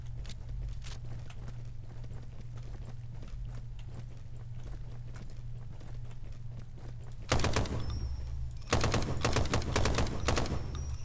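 Rapid video game gunfire from the sci-fi shooter Soldiers of the Universe crackles continuously over a low droning hum, jumping into louder, denser bursts in the final few seconds.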